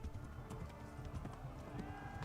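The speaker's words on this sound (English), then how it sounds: "now I should definitely gallop here." A horse gallops in the medieval game Kingdom Come: Deliverance, quick rhythmic hoofbeats in steady clip-clop, faint and continuous over a low background.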